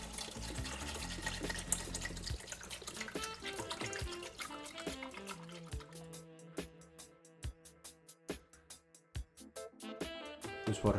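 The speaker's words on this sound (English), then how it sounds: "This water should start to flow down the overflow." Distilled water pours into a micro all-in-one aquarium, a steady close splashing trickle that thins into separate drips and small plops toward the end, with no talk.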